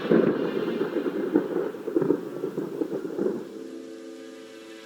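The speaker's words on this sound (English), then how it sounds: "Paimon hears thunder!" Thunder rumbles in the video game Genshin Impact, a deep rolling roar that swells with a few stronger cracks before fading out over several seconds, with no voices.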